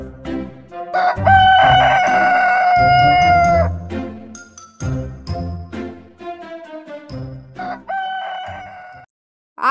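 A rooster crows loudly several times, the long calls broken by shorter clucking notes, close and clear with no other sounds.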